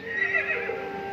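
A horse gives a single close, loud whinny that rises and wavers for about a second, standing alone with no talking over it.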